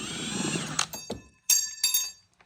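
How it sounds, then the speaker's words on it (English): A Milwaukee 1/2-inch impact gun backing bolts off a bracket during a K20 engine swap, heard as several short, loud mechanical bursts with hammering rattles and whining, separated by brief pauses. "Get your 1/2-inch Milwaukee impact gun. That has some real power."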